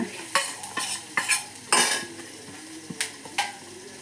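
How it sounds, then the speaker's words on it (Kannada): Turmeric and a handful of grated coconut fry with black-eyed beans in a pan, with a steady sizzle broken by repeated sharp spoon-against-pan stirring clatters at close range, no talking. "ಎಲ್ಲವನ್ನು ಇದರ ಜೊತೆಗೆ ಹಾಕಿಬಿಟ್ಟು ಫ್ರೈ ಮಾಡೋಣ"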